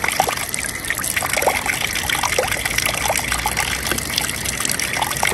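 Water runs from a seaside fountain on a promenade, a close, steady trickling and splashing stream that continues without a break.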